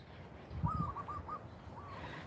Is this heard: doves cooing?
yes